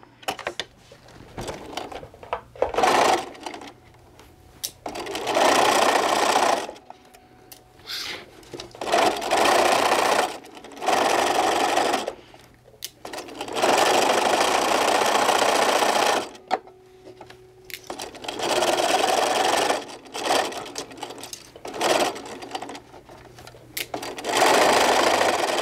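A sewing machine stitches along the edge of a drawstring bag casing in several long runs with brief stops, a steady close mechanical whirring and clatter.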